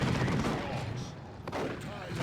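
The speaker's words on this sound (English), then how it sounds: "These guys are getting suppressed by the assault cannon Terminators here" Assault cannon Terminators open fire in a Dawn of War 2 Space Marines versus Orks battle: a dense, continuous roar of rapid gunfire that stays loud across the whole stretch, with brief dips, amid the din of combat.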